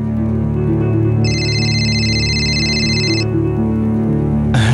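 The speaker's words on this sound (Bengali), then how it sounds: "তোর ফোন এসেছে" A telephone ringtone plays as a bright electronic warble lasting about two seconds, loud over a steady background hum, followed by a brief sharp tone near the end.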